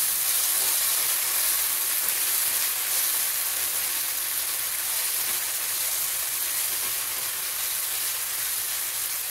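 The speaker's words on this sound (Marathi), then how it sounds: "एक 2 मिनिटांनंतर झाकण काढून बटाटा हलवून घेऊया।" Potato pieces frying in a pan for sabudana khichdi, giving a steady, dense sizzle close by. The hiss continues unbroken with faint stirring underneath.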